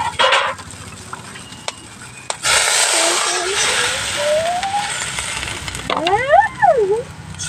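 Water is poured into a hot pan of freshly fried food, bursting into a loud, broad hiss of sizzling that settles into steady bubbling. There are clinks of utensils, and a faint voice is heard near the end.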